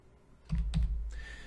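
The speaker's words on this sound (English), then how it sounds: "I'm just going to find the word by typing it in." A few quick keystrokes clatter on a computer keyboard while a word is typed into a voice-dictation program's vocabulary editor, close and brief in a quiet room.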